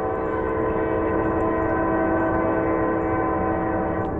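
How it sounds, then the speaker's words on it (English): A Norfolk Southern freight train of 74 axles at 49 mph, led by an AC44C6M with an ES44DC trailing, blasts a loud, sustained chord horn at sunrise while rolling past close by. "It's the fourth train."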